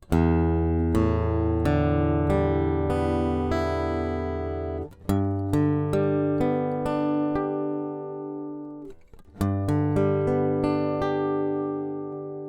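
Takamine SW341SC Steve Wariner Signature acoustic-electric guitar heard through its bridge pickup, strummed chords ringing out with bright, clear strings, a brief pause midway, then more chords.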